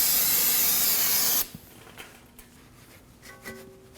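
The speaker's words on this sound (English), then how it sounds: "We'll spray this area down with some brake clean and wipe it down with a rag" A loud, steady aerosol spray of brake cleaner hisses for over a second, then stops, followed by a few faint clicks and handling sounds nearby.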